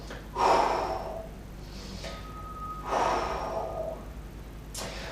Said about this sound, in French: Donc là, je souffle et j'inspire en remontant.